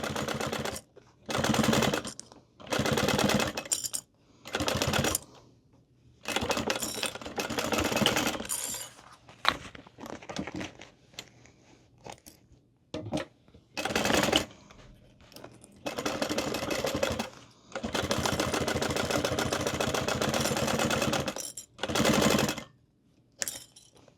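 A sewing machine runs in repeated bursts of stitching on a crossbody bag, loud and close, with short pauses between runs and no talking.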